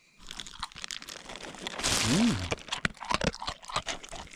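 Crunchy maple bacon chewed at a winter camp in a snow shelter with a woodstove, giving close, irregular crunching and mouth noises over about four seconds, with a brief tonal vocal sound in the middle.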